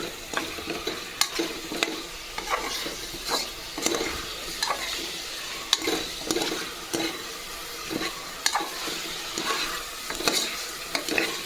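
Chicken frying in hot oil, stirred repeatedly: a steady sizzle with regular scraping strokes of a spoon in the pan roughly every second, close and clear, with no voices.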